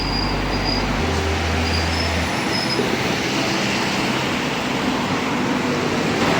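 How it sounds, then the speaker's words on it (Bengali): Elevated train in Kuala Lumpur rumbles past loudly and continuously, a dense roar of wheels on rails with faint squeals throughout, close by. "উপর দিয়ে চলে এই ট্রেনটা।"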